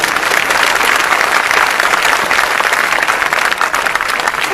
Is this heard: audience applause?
yes